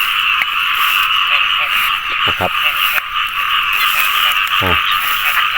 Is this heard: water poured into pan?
no